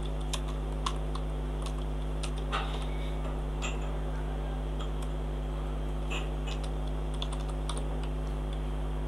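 Fingers type steadily on a computer keyboard in a quiet room with a low steady hum. The soft key clicks come in short irregular runs and scattered single taps.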